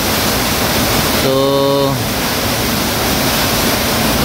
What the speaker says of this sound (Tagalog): nasa sapa, malaking ilog